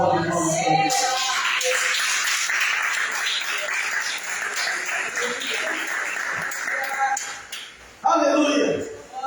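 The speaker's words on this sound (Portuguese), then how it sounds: "Dá uma salva de palmas para Ele." A church congregation breaks into sustained applause during a service, a broad wash of clapping that swells for several seconds, with a voice speaking before and after it.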